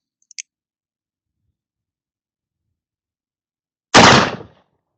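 A Pietta 1873 Great Western black-powder revolver fires one loud, close gunshot with a short decaying tail, preceded by a faint mechanical click in otherwise near-silence.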